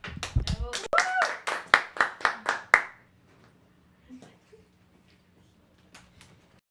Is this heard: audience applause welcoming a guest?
yes